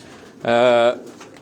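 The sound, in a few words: Kamagar breed pigeons cooing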